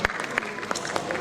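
An audience at a Bundeli cultural festival in Jabalpur claps steadily in brief, moderately distant applause, a dense patter of hand claps without voices on top.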